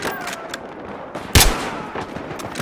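Sniper rifle fire in a video game: one sharp, loud shot cracks near the middle, with faint scattered distant gunfire before and after.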